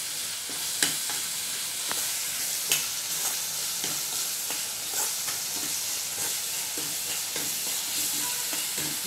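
Tempering spices for a North Karnataka fenugreek leaf curry crackle and sizzle steadily in hot oil, with occasional sharp pops and light stirring scrapes, close and continuous.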